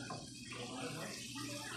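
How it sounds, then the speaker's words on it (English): Olive oil grease being poured off a frying pan after cooking hamburger steak, a faint continuous liquid trickle and splash throughout, quiet and close. "I still Gotta drain that pan"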